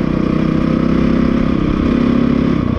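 A motorcycle engine runs at a steady, even drone after being shifted into fourth gear, holding a constant low rumble with a faint mechanical clatter and no voices.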